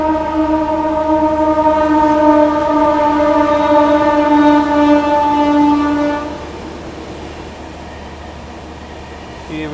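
Vikramshila Superfast Express rushing past at high speed, a loud sustained multi-tone horn blaring for about six seconds over the roar of the train before cutting off, leaving rumbling wheels.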